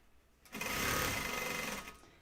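Sewing machine stitching at a fast, steady pace, a dense buzzing whir that starts abruptly, runs for over a second and cuts off, heard up close in a quiet room.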